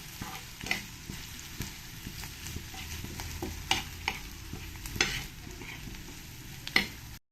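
Khesa roasts in a pan and is stirred steadily. A soft, even sizzle runs under close scraping strokes, with occasional sharper clinks of the spoon against the pan.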